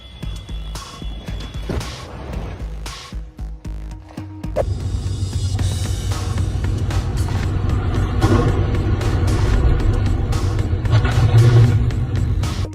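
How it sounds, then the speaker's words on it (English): Construction trucks at a demolition site: heavy engine rumble and revving, with clanks and knocks early on, then a loud, continuous low roar of a big truck working close by. "The drivers of these construction trucks definitely earn their money."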